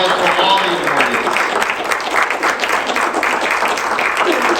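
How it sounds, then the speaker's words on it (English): Audience applause at a Juneteenth awards ceremony, a dense steady wash of clapping across the whole stretch with speech-like sounds mixed in. "Another round of applause for all these audience."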